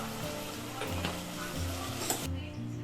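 Tomatoes frying in a pan for tomato kurma sizzle steadily up close, with a spoon stirring and scraping a few times, then a sudden drop near the end.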